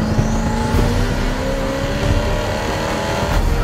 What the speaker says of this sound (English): Listen to the turbos just spool up.